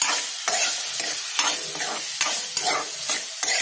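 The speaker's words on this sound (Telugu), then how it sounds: "వీటిని ఒక 10 నిమిషాలు బాగా వేగనివ్వాలి" Chopped onions frying in a pan for an egg noodles curry, with a spatula stirring in a steady rhythm of scrapes about twice a second over a continuous close sizzle.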